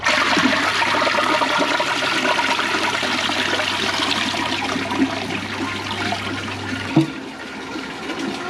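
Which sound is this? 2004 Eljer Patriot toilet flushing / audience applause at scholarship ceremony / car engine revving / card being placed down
2004 Eljer Patriot toilet flushing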